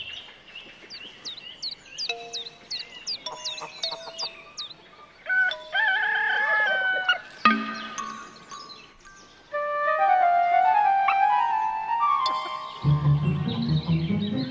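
Farmyard hens and a rooster call in a busy poultry yard: scattered clucks and squawks, bird chirps, and a loud crow near the end, all close and varied with no talk.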